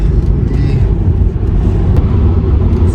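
A Tesla electric car accelerating, heard as a loud, steady low rumble of road and motor noise with no gear changes or engine revving.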